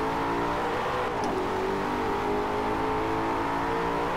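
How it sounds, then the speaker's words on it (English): A car engine drones loudly and steadily throughout, with a slight rise in pitch partway through, no voices. "Listen to that engine."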